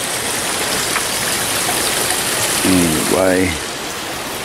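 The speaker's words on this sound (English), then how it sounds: "that's pretty neat waterfall there" Steady broadband rush of a small waterfall in a creek bed fills the whole stretch, with a voice speaking briefly near the end over the constant water noise.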